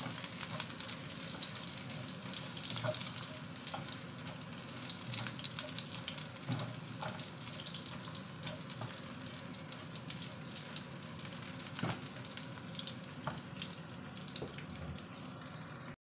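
Garlic sautéing in a pan, a soft, steady sizzle with faint clinks and watery crackle, fairly quiet and continuous without talk.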